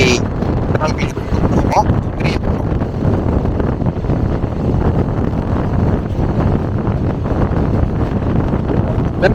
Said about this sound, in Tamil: வெப் 7 இன்ஜின் வந்து நமக்கு ஃபுல் ஸ்பீடில் இழுத்துட்டு போகுது